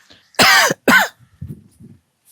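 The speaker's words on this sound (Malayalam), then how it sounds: "ചുമ വിട്ടു മാറിയിട്ടില്ലല്ലേ?" Two hard, close coughs from a person with a lingering cough, followed by a few softer throat sounds and faint breathy noises.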